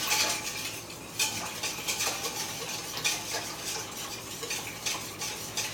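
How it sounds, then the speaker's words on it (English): A whisk beats batter in a bowl with quick, steady scraping clicks against the sides, close and continuous, with no voices. "But you can start out by whisking it."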